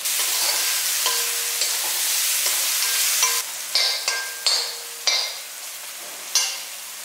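Eggplant and potato sautéing in a pan with turmeric and salt: a bright, continuous sizzle, then several sharp spatula scrapes and taps at irregular intervals as it is stirred.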